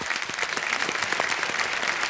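A studio audience on a television quiz show gives a burst of steady applause, dense and fairly loud, clapping alone throughout.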